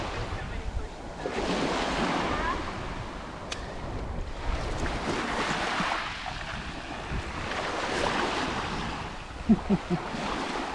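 Surf washing onto an empty Delaware beach, a steady broadband wash that swells and recedes in slow cycles, with wind buffeting the microphone and a few faint sounds near the end.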